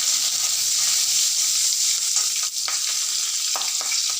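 Curry leaves crackle and sizzle in hot oil during tempering for menthya cashew rice bath, a loud, continuous hiss with a few soft stirring bumps and no voices.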